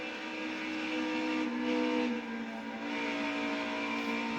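Race car engine in NASCAR Heat 5, a sustained high buzzing drone with steady harmonic whine and slight pitch swells as the car holds speed, heard alone at moderate level.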